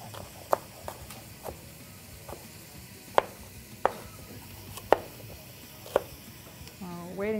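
Butternut squash being chopped for beef chili, a knife striking the board in sharp, irregular knocks about once a second, close up over a steady background sizzle of cooking.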